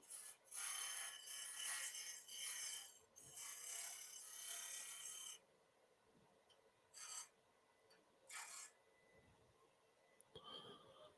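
A small skew chisel cuts a dovetail into a piece of wood spinning on a lathe, with a long stretch of close, rasping scraping followed by a few shorter, separate cuts.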